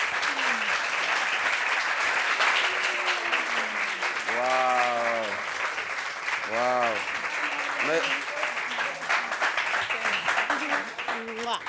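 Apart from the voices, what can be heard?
audience applause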